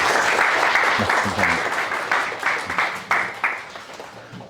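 A seminar audience at a Seoul National University data science forum gives loud, warm applause to welcome a professor, dense at first and then fading in uneven bursts, with a brief spoken thanks near the end.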